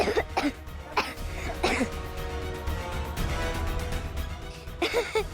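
A child coughs repeatedly in short, harsh bursts spread across several seconds, close by, with a little throat clearing between coughs.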